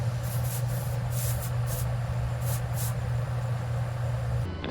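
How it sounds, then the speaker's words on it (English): Several short hissing bursts of aerosol bug spray come in quick pairs over a steady low hum, fairly close, at a campfire. "apply bug spray so that mosquitoes don't eat you alive."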